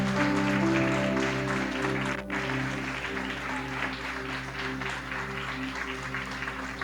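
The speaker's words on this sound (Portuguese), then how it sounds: "Você pode aplaudir Jesus bem forte?" A church congregation applauds, a dense wash of clapping under sustained music tones, fairly faint and steady for several seconds.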